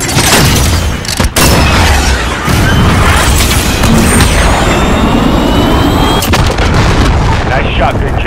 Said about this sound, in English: Cruise missile, go for launch.